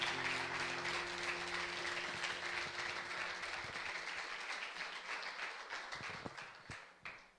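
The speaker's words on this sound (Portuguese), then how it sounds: "te recebemos com uma linda salva de palmas" A church congregation claps together in sustained, dense applause that gradually thins out into scattered individual claps toward the end, with no talking over it.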